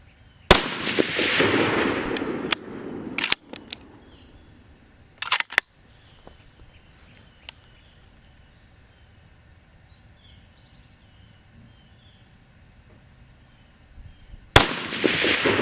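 A 6.5 Creedmoor rifle, an M40-style clone, fires at a target outdoors. Four sharp, loud reports are spaced several seconds apart, with near-silence between them and a brief echoing tail after each shot.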